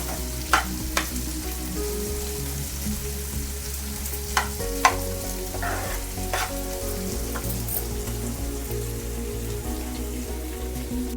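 Onions sizzle and crackle steadily in a hot pan while stuffed bitter gourd masala is prepared, with a few sharp stirring clinks standing out over the continuous frying hiss.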